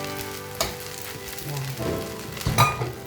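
Eggs frying in a pan for vegetarian fried rice, a steady close sizzle with a few brief clatters of a utensil stirring against the pan.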